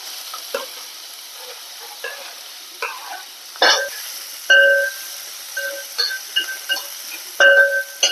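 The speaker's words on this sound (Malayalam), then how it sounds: "ഒരു അഞ്ചെട്ട് ചെറിയ ഉള്ളി കറിവേപ്പില ഇഞ്ചി പച്ചമുളക് ഇട്ട് കൊടുക്കും" Small shallots, curry leaves, ginger and green chilli fry in hot oil for semiya upma, a soft sizzle punctuated by sharp metallic clinks and scrapes of a spoon stirring the pan.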